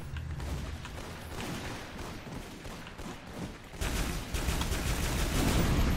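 Dense, continuous gunfire in the Toxikk arena shooter, rapid bursts running the whole time and growing louder and harsher toward the end, with no talk over it.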